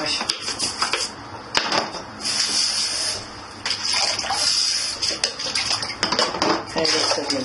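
A juicer segment from a twin gear juicer is scrubbed with a brush under running water, with steady faucet flow, scraping strokes and light clinks of hard parts nearby.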